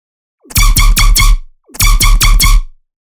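Screechy laser dubstep synth made in Serum: two identical bursts, each a rapid stuttering run of four bright, harsh, buzzing pulses over a heavy low sub, loud and close with silence between.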